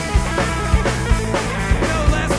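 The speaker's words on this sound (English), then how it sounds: "I play guitar, and it sounds like this." Electric guitar strums over a band backing, bright chords struck in a regular rhythm with accented hits about every 0.4 seconds, loud and close with drums thumping underneath.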